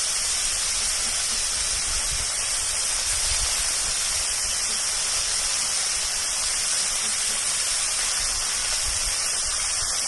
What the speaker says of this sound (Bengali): কিছু ফোড়ন দেব। শুকনো লঙ্কা গোটা, গোটা এলাচ